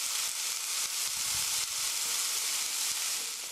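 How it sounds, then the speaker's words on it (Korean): Onion and garlic stir-fry in a pan for tomato soup, giving a steady, close, bright hiss of sizzling with faint stirring taps, no voices. "양파, 마늘이에요. 그래서 stir fry 3min 3분 정도 볶아주세요."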